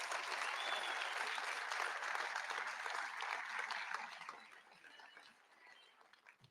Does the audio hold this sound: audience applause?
yes